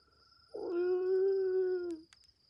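One dog gives a single clear howl, a sustained tonal wail of about a second and a half that stands out against a quiet background.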